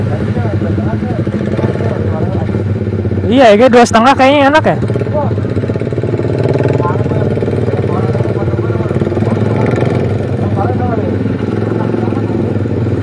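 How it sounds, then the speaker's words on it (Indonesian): Suzuki GSX-R150 motorcycle with an aftermarket exhaust, a loud burst of revving in the middle against a steady idling rumble, with people talking throughout. "ini tuh motor yang udah diganti knalpotnya sendiri ya"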